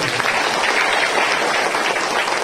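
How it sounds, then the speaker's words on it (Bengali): A church congregation at a Bengali sermon claps loudly and continuously, a dense, close wash of applause filling the space with no voice standing out. "জোরে তালি বাজিয়ে ঈশ্বরের মহিমা"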